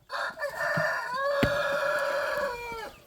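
A Polish rooster crows loudly and close inside a chicken coop pen with older hens, giving one long drawn-out cock-a-doodle-doo with a short lead-in, rising then held before trailing off.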